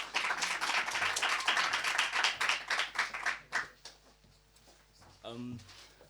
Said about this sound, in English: Can we give a round of applause for Romoana Nare?